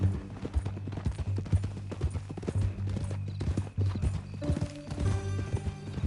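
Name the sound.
horse hooves clip-clopping in video game Red Dead Redemption 2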